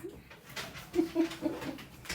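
Chocolate labrador dog whimpering indoors at home, a few short high whines in quick succession, near and fairly soft over faint background noise.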